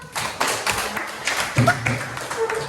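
A junior high school class in an Indonesian language lesson claps for a student, irregular hand claps and taps from a small group nearby, mixed with a brief voice and a thump partway through.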